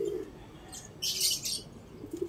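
A small banded racing pigeon from a Cavite pigeon sports association, lost and grounded, makes faint, soft low coos at the start and end, with a brief brighter rustle in between in a quiet setting.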